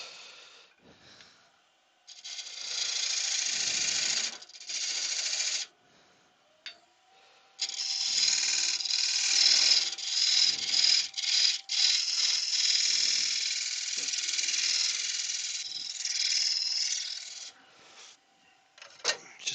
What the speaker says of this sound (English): Just a little tiny pass on there with the gouge just to clean it out.